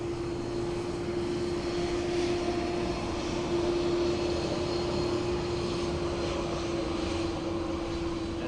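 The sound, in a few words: aircraft at Dublin Airport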